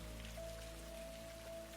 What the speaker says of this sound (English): He lies still for a moment, eyes closed, listening to the rain's percussion.